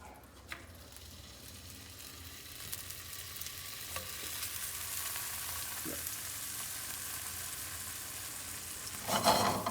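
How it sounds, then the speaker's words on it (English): Bologna slices fry in melted butter in a pan, giving a steady, close hiss and crackle with a few clinks and scrapes of stirring. No one speaks. "You hear that sound? That's the sound that you want. Nice and sizzly."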